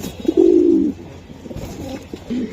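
Racing pigeons kept for club races coo in a few low, throaty bursts, one long and loud near the start, then softer murmurs and a short final coo close by.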